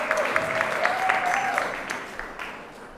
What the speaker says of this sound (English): I wanted to give another round of applause